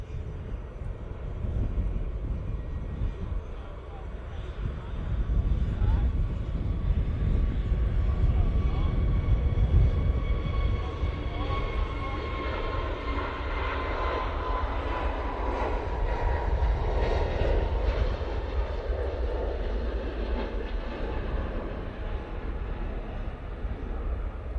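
A321neo airliner departing Manchester Airport for London Heathrow, a broad engine roar that builds and then slowly fades at a distance over about twenty-five seconds.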